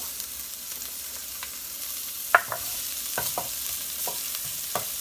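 Shallots fry in rendered kielbasa fat with a steady hiss, broken by a few sharp scraping stirs and clinks of a utensil against the pan.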